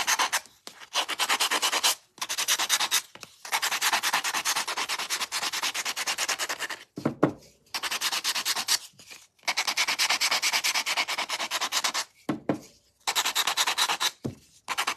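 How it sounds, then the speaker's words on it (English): Sandpaper rubs the edges of a Christmas stocking in long, steady, rasping strokes, close up, broken by short pauses between passes. "So I want to sand the edges."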